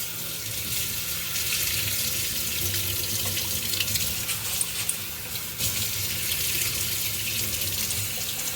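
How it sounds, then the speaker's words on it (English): Steady running tap water pours into a bowl, a constant close-up rush of splashing that fills the whole stretch without pause. "So I'm just going to fill it with water. I'm just going to wash this."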